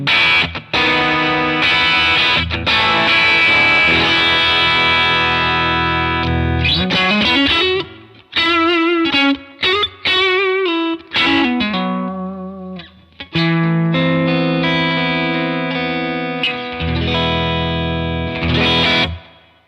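Electric guitar played through a Browne Amplification Carbon X Dual Overdrive pedal with its tone control turned fully up, giving a loud, bright, distorted sound of sustained chords and a brief picked single-note passage, with no talking.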